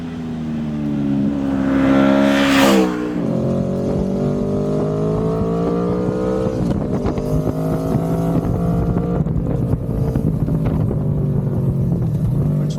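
Aprilia Tuono V4 motorcycle on its stock exhaust, revving up sharply, then settling into a loud, steady rumbling idle with minor pitch shifts, close and alone.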